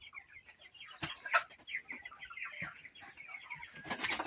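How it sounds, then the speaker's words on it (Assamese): Sonali chickens cluck and chatter nearby at low volume, scattered short calls with a light rustle or wing flap among them. "সোণালী মুৰ্গী।"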